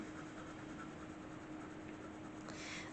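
A fine-nib fountain pen writes on paper with a steady, faint scratchy rasp that runs unbroken and close, with no talk.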